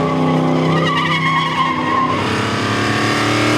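A 1965 Chevrolet SS Impala factory big block car with a 496 stroker and nitrous skids, its tires squealing in a loud, continuous screech over a roaring engine, very close throughout.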